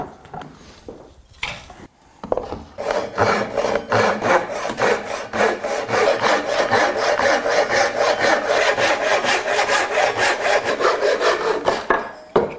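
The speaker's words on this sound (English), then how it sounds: "so we're gonna have to cut it down slightly" A saw cuts down a piece of wood for a war hammer handle, quick regular back-and-forth strokes rasping up close and steady after a couple of brief knocks at the start.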